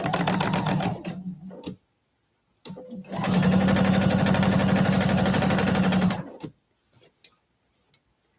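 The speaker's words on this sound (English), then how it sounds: "We're going to sew this block." A sewing machine stitches a quilt block, running in two steady whirring bursts with a short pause between, then falls silent apart from a few faint clicks.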